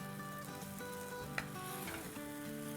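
Paneer frying in a karahi sizzles steadily while it is stirred, a continuous hiss with a single sharp scrape partway through and a faint background hum.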